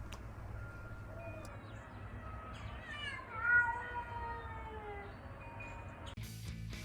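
Pet cat Trevor Man meows upstairs in a house above a guitar workshop, a few faint drawn-out calls rising and falling through steady background hum, then a brief burst of noise at the end.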